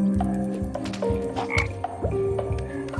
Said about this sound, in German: aber so kriegt man also den Frosch.